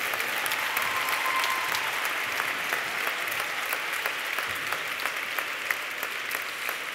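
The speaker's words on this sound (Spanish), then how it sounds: "Aplaudiu molt poc, heu d'aplaudir més" Audience applause fills a graduation ceremony hall, a steady dense clapping from a large crowd that holds strong and even throughout with a few sharper individual claps standing out.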